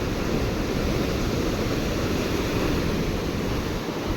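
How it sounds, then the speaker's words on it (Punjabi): Torrent of water surging out through the open gates of Pong Dam at Talwara, a loud, unbroken broadband roar that stays constant across the whole stretch with no talking. "ਪਾਣੀ ਦੀ ਸਪੀਡ ਦੇਖੋ ਜੀ ਕਿੰਨੀ ਸਪੀਡ ਆ ਕਿੰਨੀ ਸਪੀਡ ਨਾਲ ਅੱਗੇ ਜਾ ਰਿਹਾ ਹੈ"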